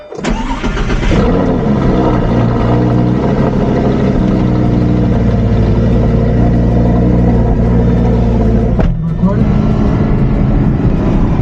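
A Lamborghini engine starts with a sharp crank and settles into a loud, close, rumbling idle, then briefly blips before continuing to run as the car sets off.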